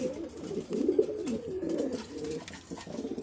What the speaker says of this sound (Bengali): এই জোড়াটি বিক্রি হবে অ্যান্ডোলেজিয়ান ড্রাগন হোমা সম্পূর্ণ অরিজিনালি ইম্পোর্টের কবুতর